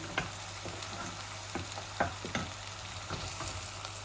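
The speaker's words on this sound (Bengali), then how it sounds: "আমি রসুন পেঁয়াজ রসুনটা লাল করছি" Garlic and onion fry in hot oil for a chicken and bean curry, crackling steadily while a spatula scrapes and taps the pan several times in quick succession, no one talking.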